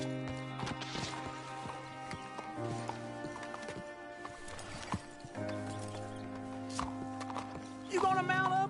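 Horse hooves clip-clop in Red Dead Redemption 2, soft rhythmic steps under a tense musical score, with a horse neighing sharply near the end.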